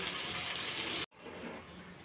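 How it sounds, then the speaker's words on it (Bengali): Water goes into a pan of fish heads frying with salt and turmeric, a dense, rushing hiss that cuts off sharply, then a quieter bubbling simmer continues; no voices. "তো জল দিয়ে দিলাম, এবার উঠিয়ে নিব"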